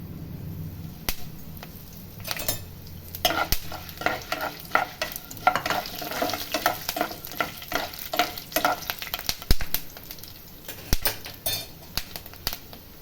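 Cumin seeds frying and stirred in hot sesame oil in a pan for a Tamil lunch dish, crackling sizzle with scraping spoon strokes and sharp clicks, close and irregular, no talking.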